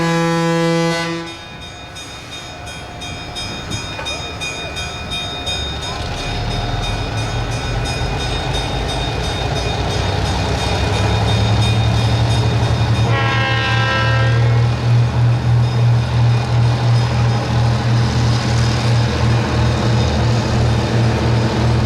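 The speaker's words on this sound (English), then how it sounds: "Scott's going to give us a blast on the horns" A diesel locomotive sounds its horns in a long, loud sustained blast that swells and holds steady over an idling engine rumble.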